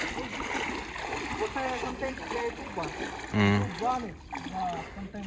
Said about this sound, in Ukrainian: Зараз заходимо в річку, охлаждаємося.